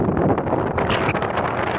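Strong wind in a garden buffets the microphone in a constant rough rush, with a few brief higher rustles on top.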